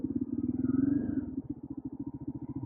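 A motorcycle rides slowly around the edge of a farmer's field in Algeria, its engine a close, steady low thumping rumble that pulses rhythmically and eases back partway through.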